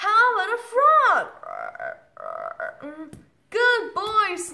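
A voice imitates a frog, giving a series of croaking, burp-like grunts in short bursts with brief pauses, close and fairly loud.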